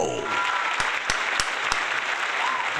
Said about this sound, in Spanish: aplauso para Ciencio